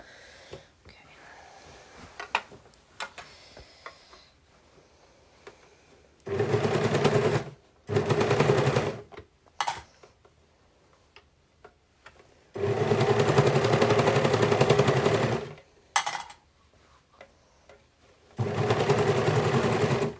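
Overlocker trimming and sewing a tulle dress overlay, running in several loud, rapid whirring bursts of a few seconds each, separated by quieter pauses with faint handling of fabric.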